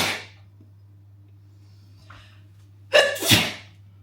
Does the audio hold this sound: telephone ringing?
no